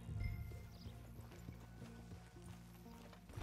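Horse hooves clip-clopping at a steady walking rhythm in the video game Red Dead Redemption 2, close and fairly clear over a low game soundscape, with no talk.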